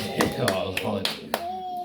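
Several quick hand claps, close and fairly loud, landing at an uneven pace while a voice talks alongside.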